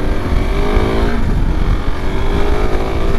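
A KTM 690 Enduro R single-cylinder motorcycle rides along country lanes, its steady engine drone and road rumble continuous and close throughout, with no voices.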